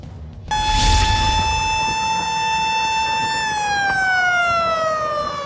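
A loud fire truck siren wails steadily up close, its pitch holding high and then gliding slowly downward.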